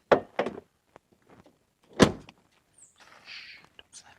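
A car door shuts with a sharp, loud thud near the middle, after a couple of earlier softer knocks and rustles, outdoors at a deer food plot, followed by faint shuffling and scraping.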